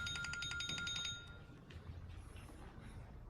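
A telephone rings in a movie scene, a repeated electronic trill in quick pulses for about a second, then fades into low background noise.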